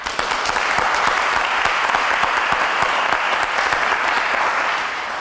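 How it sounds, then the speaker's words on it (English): A crowd applauds loudly and steadily, dense clapping from many hands sustained throughout without speech. "Give yourselves a round of applause."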